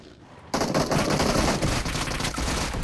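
Gunfire in a multiplayer shooter game bursts in after a quiet moment as rapid, close automatic fire, with a sustained stream of shots and a few short pauses.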